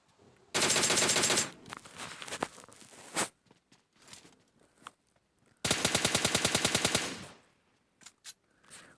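Gunfire in the mobile battle royale game PUBG Lite: two long, loud automatic bursts, each over a second, separated by scattered single shots and quieter impacts, with no talking.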